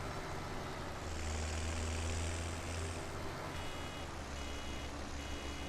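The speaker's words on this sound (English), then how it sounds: "That beeping drives me crazy. It goes on for so long." A tractor-drawn baler behind a Deutz-Fahr tractor keeps up a steady, continuous electronic beeping over the low drone of a running engine, sounding fairly close and unbroken.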